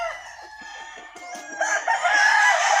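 Allen Roundhead gamefowl roosters at a breeding farm in Batangas crow loudly and repeatedly, several birds overlapping in drawn-out calls amid scattered clucks, with no talking.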